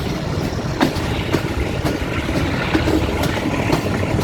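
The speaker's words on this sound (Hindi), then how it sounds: "ये देखें जी लोकोमोटिव फुल स्पीड पकड़ते हुए जी" A locomotive gathers speed at Golra Sharif Junction near Rawalpindi, a loud continuous rumble with faint rhythmic clatter of wheels on rails, heard close and without talk.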